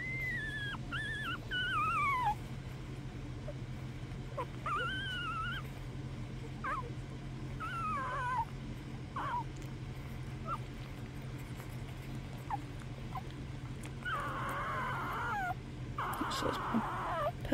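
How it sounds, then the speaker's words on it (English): Eight-day-old newborn puppies squeak, whimper and give high wavering cries, alone and fairly close, over a steady low hum. The calls come in short separate bursts, with a cluster of busier squealing near the end. "Little squeakers. Who's squeaking down here?"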